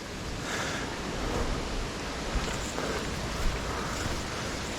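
The Caledonia Cascade waterfall in Tallulah Gorge rushes as a dense, steady roar of falling water, broad and continuous, with a few small knocks and rustles close by.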